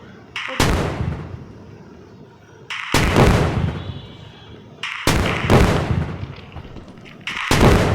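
Sniper rifle fire at a dinosaur in the video game Indian Bike Driving 3D: four loud, booming shots spaced a couple of seconds apart, each with a sharp crack followed by a rumbling tail.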